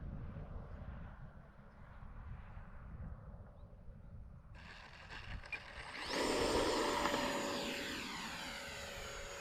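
A Freewing F-22 64mm EDF RC jet on a 4S battery flies past, its ducted-fan whine rising into a loud, close rushing roar and then fading as it passes, with no talk.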